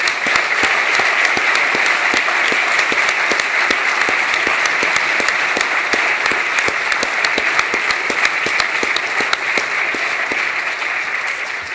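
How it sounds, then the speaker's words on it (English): An audience at the RIBA President's Medals awards ceremony claps steadily, a dense and even round of applause that holds at full strength for about twelve seconds and eases only slightly at the end. "could we give them a big round of applause"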